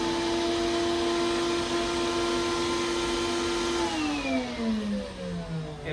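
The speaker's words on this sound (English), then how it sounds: "You can turn it on too as well to ensure any type of debris is sucked in." HEPA vacuum running during asbestos floor tile and mastic removal, a loud steady motor whine that drops in pitch partway through as the load changes, continuous throughout.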